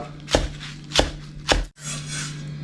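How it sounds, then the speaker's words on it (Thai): Three sharp knife chops through shallots on a cutting board at an even pace, close up, followed by a soft rustle. "จะใช้วิธีสับนะฮะ จะไม่ปั่นนะครับท่านผู้ชม"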